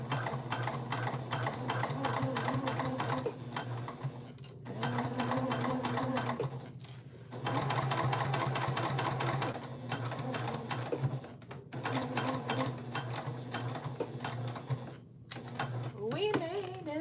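A sewing machine stitches through the thick top seam of a tote bag in repeated bursts of rapid mechanical whirring, separated by brief pauses.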